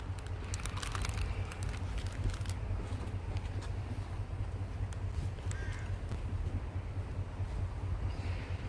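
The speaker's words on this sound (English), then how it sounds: "Sounds like a freaking tractor behind me." A low, steady tractor-like engine rumble drones continuously beneath wind noise heard from a BYD Tang electric SUV, with a few faint bird caws scattered on top.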